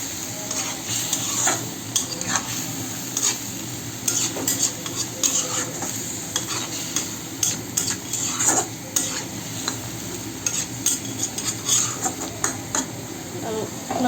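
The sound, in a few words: cut taro stems added to pan and stirred with dried fish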